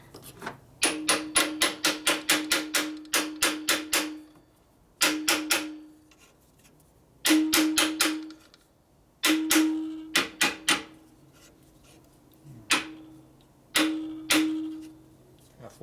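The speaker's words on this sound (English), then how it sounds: "Steel hammer," A steel hammer strikes repeatedly during the rebuild of a 1965 Harley-Davidson panhead 74ci FLH motor, sharp ringing metallic blows in quick bursts of several hits separated by short pauses, close and loud.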